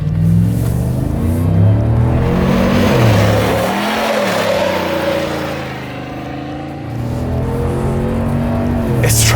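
A 2022 Chevrolet Silverado ZR2 with a 6.2-litre V8 pulls at full throttle, engine note rising through the gears in strong close-up surges, dipping briefly at a shift before climbing again.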